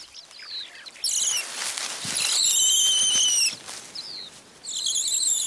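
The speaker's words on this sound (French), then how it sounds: "Les cris aigus de Big Red attirent d'autres mâles." A male mongoose gives shrill, high-pitched squealing cries in short bursts of two or three sharp calls, loud and close, over a faint background hiss.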